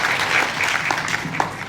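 An assembled crowd at a civil defence farewell ceremony in Moradabad claps loudly and steadily, a dense wash of applause with no voices over it.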